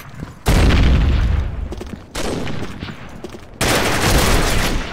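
Rapid burst fire from a pistol in a competitive shooting video game, three loud sustained volleys of gunfire separated by short pauses.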